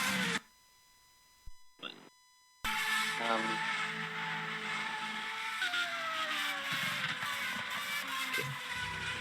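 Racing cars in the rFactor 2 sim at a Brazil track roar continuously and loudly after a brief dropout, engines whining with rising and falling pitch as they accelerate and shift.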